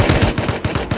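Rapid bursts of gunfire in the video game Rust crackle in quick succession, sharp repeated shots close by with a faint voice in the background.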